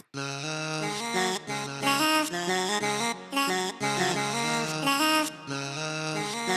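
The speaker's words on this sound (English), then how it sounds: "that's why it sounds sped up and kind of chipmunky" A high, sped-up chipmunk-like singing voice chops into stuttered phrases, loud and continuous, with brief gaps between the bursts.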